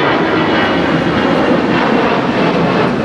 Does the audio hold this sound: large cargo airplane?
yes